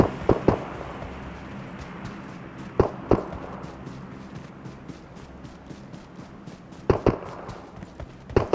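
Gunfire in the video game PUBG on the Livik map: sharp loud shots come in short pairs and clusters, spaced several seconds apart over a low steady background.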